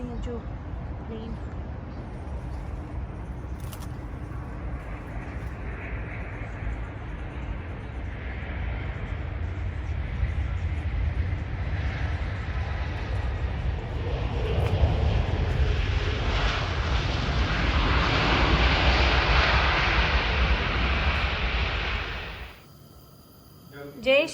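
A fixed-wing airplane flies low over a spot right beside an airport in London. Its loud, broad engine roar builds and swells for about twenty seconds, then cuts away abruptly, with voices nearby.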